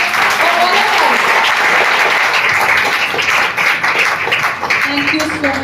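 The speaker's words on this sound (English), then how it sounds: "A big round of applause for all of us." Sustained, loud applause from a large audience at a foundation day event for a spina bifida awareness camp continues evenly, with dense clapping throughout.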